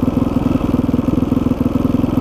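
A motorcycle engine idles steadily with a fast, even pulsing throb, loud and close, running alone with no talk.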